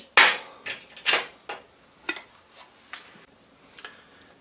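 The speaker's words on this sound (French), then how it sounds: "Ici, vous appuyez et vous pouvez retirer votre pompe." The pump fore-end of a Remington 870 Marine Magnum shotgun is pressed and slid off, giving a series of close, sharp metallic clicks and light scraping taps that fade in strength.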